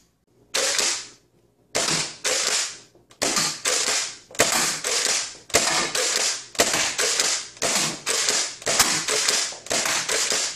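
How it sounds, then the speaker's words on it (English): A Nerf Pro Torrent blaster is primed again and again with a ratcheting mechanism, giving about a dozen loud, rough mechanical bursts in a steady rhythm with short pauses between them and no talking. "it works pretty firmly, pretty smoothly for that ratchety prime"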